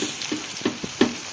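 Small taro leaf fritters fry in hot refined oil, giving a quiet, brief sizzle with a few soft crackling pops.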